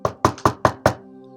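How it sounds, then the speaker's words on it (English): Five loud, evenly spaced knocks on a wooden door, close and sharp, each ringing briefly, followed by a low lingering hum. "a loud knock sounded on the door"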